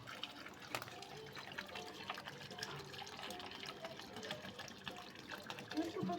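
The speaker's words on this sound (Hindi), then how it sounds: "काफ़ी दिनों बाद पानी डालने लगी।" Water poured from a container onto the ground and over plants outside a village house, a soft continuous splashing with small drips, fairly faint, under nearby voices talking.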